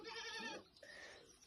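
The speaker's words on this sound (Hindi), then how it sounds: "और देखो गाइस कितनी प्यारी बकरी है" A goat bleats twice in quick succession, close and fairly faint, on a village farm.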